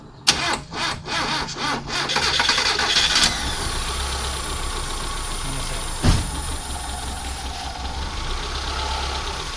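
A car engine with heavy breather blowby smoke cranks with a few sharp starter bursts, catches, and settles into a loud steady idle, with a brief bump partway through.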